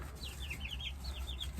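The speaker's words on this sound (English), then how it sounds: "I've got chickens." Chickens in a backyard coop give a quick run of soft, chirpy clucks and calls, fairly faint and steady over a low background hum.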